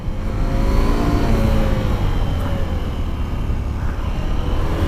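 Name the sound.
motorcycle engine revving during wheelie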